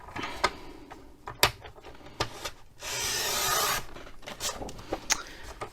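Paper being cut into a square for a pop-up card, with close, quiet snips and clicks and a longer rasping rub partway through.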